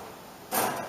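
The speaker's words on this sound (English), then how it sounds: "Open the door." A short scraping slide partway through, a dog crate door being pulled open, close and fairly quiet over a soft background hiss.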